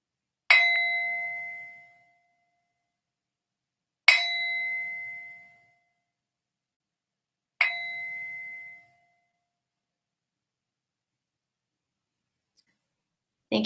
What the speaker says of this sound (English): And as I sound the bell